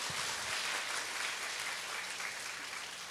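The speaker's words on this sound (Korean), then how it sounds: "박수 한번 쳐줘요" A congregation at a Korean revival prayer meeting gives a round of applause, heard as a faint, even wash of many hands clapping far off, steady for the whole stretch with no voices.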